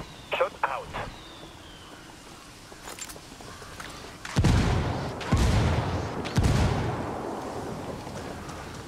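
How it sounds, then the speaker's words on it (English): Indirect-fire artillery barrage in Ghost Recon Wildlands: three heavy, booming impacts land in quick succession after a quiet stretch, with earlier scattered shots and footsteps, the rumble lingering between blasts. "I called the rebels for some indirect fire."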